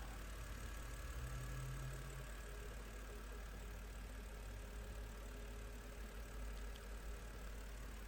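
A BMW 330i SE automatic coupe idles smoothly and steadily, a low even engine hum holding constant throughout with no revving or other sounds.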